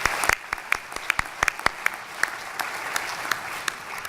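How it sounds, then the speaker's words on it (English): Audience at a solid waste management conference keynote session applauds the event sponsors, a steady wash of clapping with a few sharper claps standing out, fairly faint and continuing for several seconds without talk. "Let's give them a round of applause."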